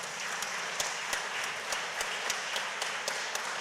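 Audience applause at a Cleveland City Council meeting: a steady patter of many hands clapping in the chamber, with a few sharper claps standing out, moderately loud and continuous throughout.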